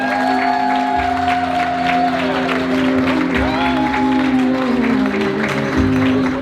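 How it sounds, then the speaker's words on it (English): Wedding guests applaud newlyweds Chris and Margaret Miller, a steady crowd clapping layered over music and faint voices for several seconds. "give them a round of applause"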